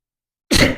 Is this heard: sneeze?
yes